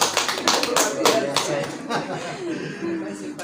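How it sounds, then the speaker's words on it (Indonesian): An audience at an Indonesian teacher coaching and academic supervision session claps briefly, with sharp claps at the start that fade as talking continues over them. "Tepuk tangan dulu, berikan aplaus."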